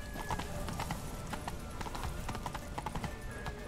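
Galloping horse hooves in The Witcher 3 video game, a rapid rhythmic clip-clop of hoofbeats over a low rumble with a brief whinny, close and steady for the whole stretch.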